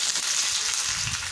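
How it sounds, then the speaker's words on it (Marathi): Potato slices sizzle steadily in hot oil with garlic and curry leaves over a low flame, a continuous close frying hiss for Malvani-style crispy spicy potato fry. "आपण बटाट्याची कापं टाकूया।"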